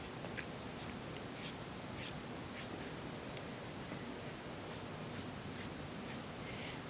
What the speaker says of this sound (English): So start on the edge of the paper or the canvas, and we're just painting inward.